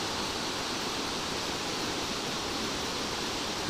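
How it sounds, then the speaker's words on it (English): Constant, dense rush of a waterfall on Cyprus, an unbroken hiss of falling water heard alone at an even, fairly loud level. "So that's the waterfall."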